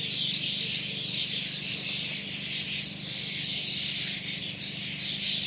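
Dense, continuous chirping and twittering of many starlings, steady and fairly loud, with a busy insect-like trill running throughout and no voices.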